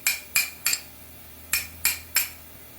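Six sharp metallic taps ring out as a hammer drives a coil sleeve out of a pinball machine coil, struck in two quick groups of three, close and fairly loud with no talking.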